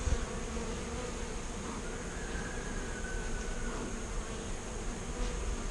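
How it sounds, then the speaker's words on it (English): Italian honey bees from nucs buzz steadily during hive installation, a continuous dense hum with no talk. "The bees are installed."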